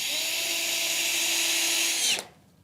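A power drill drives a screw into a wooden floor beam with a loud, close, rising whine for about two seconds before cutting off abruptly into quiet.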